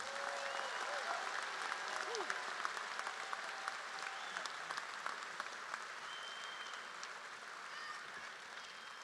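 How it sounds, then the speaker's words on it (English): Sustained applause from a high school graduation audience, steady dense clapping filling the whole stretch with a few scattered cheers and whistles rising above it. "Congratulations and a round of applause."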